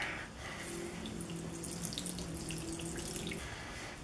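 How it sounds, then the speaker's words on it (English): Water trickles and drips steadily from squeezed grated cauliflower, a close, continuous light splashing like a running tap, alone with no voices. "I'm trying to get, obviously, the moisture out of the cauliflower."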